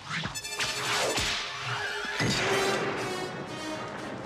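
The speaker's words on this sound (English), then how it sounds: "we could have pulled the whip sounds from a library, since obviously there's been whips recorded in the past" Sharp whip cracks from Indiana Jones snap loudly among whooshing swishes and heavy thumps, several crisp strikes in quick succession, with no talk.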